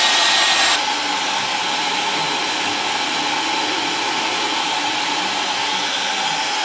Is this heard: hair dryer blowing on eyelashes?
yes